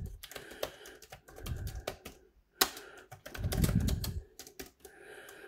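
Typing on a ZAGG Pro Keyboard 15 up close: quiet bursts of rapid key clicks in uneven clusters with short pauses between them, no talking.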